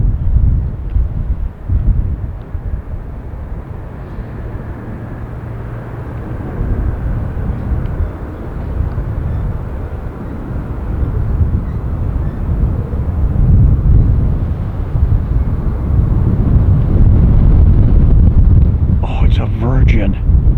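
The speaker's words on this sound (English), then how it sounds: "I know where that Dreamliner is going. Right back to London's Heathrow." A Virgin Dreamliner jet airliner roars at a distance, its low rumble steady and swelling under heavy wind buffeting the microphone, with a faint whine rising near the end.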